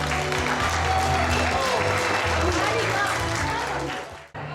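An audience at a gala concert of a pop song festival applauds, a dense, steady wash of clapping that carries on for several seconds and then cuts off abruptly near the end.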